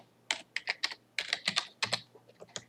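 Fingers type on a computer keyboard in quick, uneven bursts of crisp clicks with a brief pause midway, close and clear over a low steady hum.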